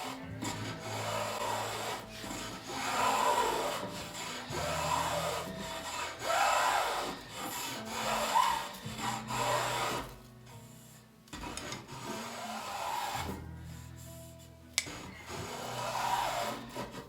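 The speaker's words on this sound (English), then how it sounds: "I'll be using the spoke shave now" A spokeshave rasps across wood shaping a Greenland paddle in repeated strokes, each pull a scraping swish separated by short pauses, close and steady.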